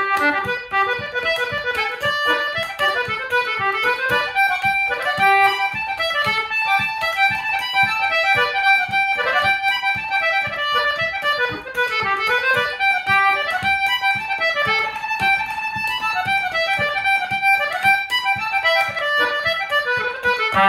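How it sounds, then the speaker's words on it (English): An English concertina plays a lively, ornamented tune with quick reedy notes and chords, steady and up close for about twenty seconds with no talking. "I play the English concertina."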